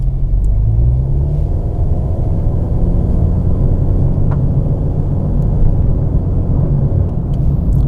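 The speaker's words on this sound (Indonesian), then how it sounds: "sekarang gue mau coba tes akselerasi dari mobil ini. Gue tes akan satu-satu, mulai dari mode drive-nya dulu ya" A turbocharged 2017 Honda Civic sedan accelerates in drive mode on a straight road, its engine drone and low road rumble rising steadily and heard from inside the cabin for the whole stretch with no talking.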